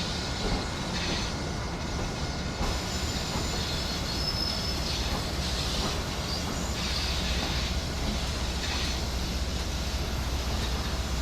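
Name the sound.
double-headed passenger train running in Train Sim World video game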